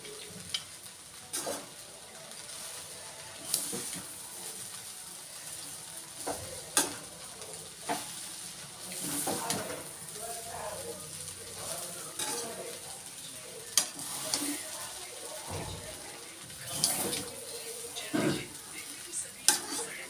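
A spoon stirs and mixes food in a pan, with scraping and clinking against the metal and a faint sizzle underneath, steady and close with occasional sharper knocks.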